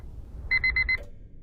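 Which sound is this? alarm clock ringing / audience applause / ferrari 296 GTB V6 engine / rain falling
alarm clock ringing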